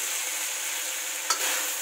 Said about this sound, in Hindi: फिर इसमें साबूदाना डालेंगे फ्रेंड्स, और इसको अच्छे से फ्राई करेंगे।